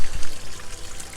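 Water spills down a garden pond cascade beside a UK koi and nature pond, splashing and trickling in a steady, close wash with no voices over it.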